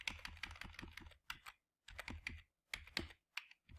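Computer keyboard keys clicked in quick bursts of typing, separated by short pauses, close and fairly soft, with no speech.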